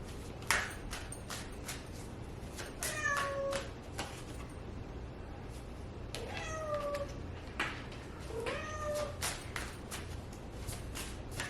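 A cat meows several times at spaced intervals, nearby and clear, over a steady hiss of background noise. There is no speech.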